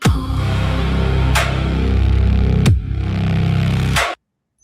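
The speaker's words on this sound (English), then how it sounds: "That's the sound of a black hole." Sonified black hole rendered as sound, a loud, dense rumbling drone with three sharp sweeping swooshes sliding downward, stopping abruptly into silence.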